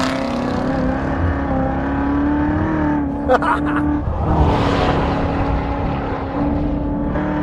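Corvette Z06 engine droning steadily on a race track in track mode, a loud sustained interior note with a short break near the middle before the roar swells again; no one speaks.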